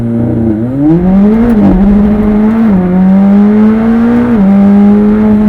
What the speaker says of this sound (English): Waiting full throttle, boost building, ready, launch